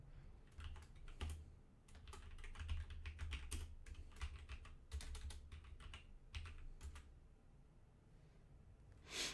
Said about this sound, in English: So I'm just going to take a minute and start typing people's names.